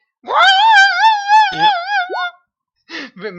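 A human voice imitates whining dogs in a long, wavering, high-pitched wail that bends up and down, then breaks off and is followed by shorter whimpering yelps, loud and close.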